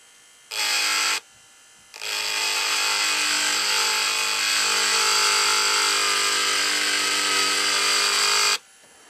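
A Dremel 8050 Micro cordless rotary tool set to 5,000 speed gives a short burst and then runs for several seconds, a close, steady buzzing whine that stops abruptly.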